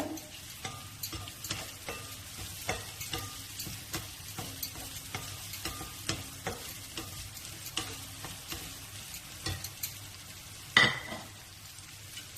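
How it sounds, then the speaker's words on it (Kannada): Green chillies and curry leaves fry in a pan with ginger and garlic for corn fried rice. A steady, soft sizzle runs under regular scraping stirs, and a louder metallic clank comes near the end. "ಗ್ರೀನ್ ಚಿಲ್ಲೀಸ್ ಹಾಕ್ತಿದ್ದೀನಿ, ಕರಿಬೇವು, ಸ್ವಲ್ಪ ಹಸಿ ಸ್ಮೆಲ್ ಹೋಗ್ಬೇಕು, ಅದಕ್ಕೋಸ್ಕರ."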